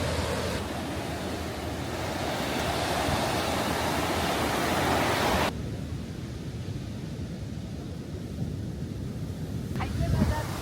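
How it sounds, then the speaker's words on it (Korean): Steady wash of winter sea waves and surf at Gangneung, South Korea, broad and hissing, with wind buffeting the microphone; the roar eases partway through. "바닷소리."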